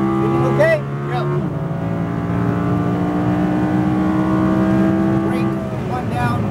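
An Audi R8 V10 RWD drives a race track with a loud, sustained engine drone that rises steadily, while a driving instructor talks over it.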